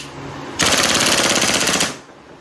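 A DB Glock 18 airsoft pistol fires BBs on full auto in one loud, rapid burst of about a second, a dense buzzing stream of shots that stops abruptly and leaves quiet background.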